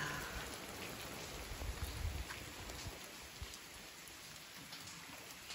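Steady rain falling on surfaces, a dense continuous patter with scattered individual drops, fairly even in loudness throughout.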